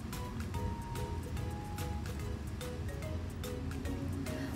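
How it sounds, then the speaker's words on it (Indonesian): Steady crackling and sizzling of egg martabak frying in hot oil in a nonstick pan, with occasional brief pops, close and continuous. "kita goreng sambil kita siram-siram"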